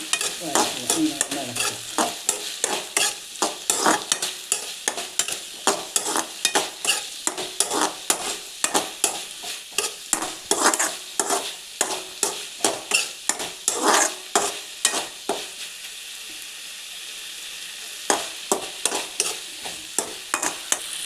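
Tomato stir-fry with turmeric and salt being stirred in a pan, a spoon scraping and clattering in steady rhythm over a continuous sizzle, close and loud, with one brief spoken word.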